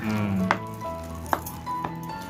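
Onion bhaji batter frying in hot oil in a kadhai, a steady close sizzle with a few sharp clinks from a utensil over the bubbling.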